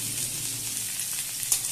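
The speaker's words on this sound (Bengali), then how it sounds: "প্রথমে আমি আলুগুলো ভেজে নেব।" Small potato pieces frying in hot oil in a wok, a brief soft hiss of sizzling with a faint crackle near the end, no talking.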